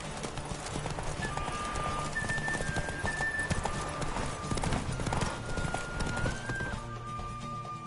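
Hooves of the horse Roach clip-clop in a video game race, a quick steady gallop heard close, with a brief whinny and faint music-like tones layered over the patter.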